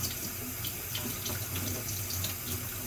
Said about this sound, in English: now I rinse off all the leaves